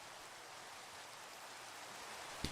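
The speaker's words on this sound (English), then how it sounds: "It is raining." Steady rain in Minecraft, a soft even hiss throughout with one small click near the end.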